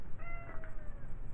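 A house cat named Bailey gives a single short, plaintive meow near the microphone, alone against a low indoor hum.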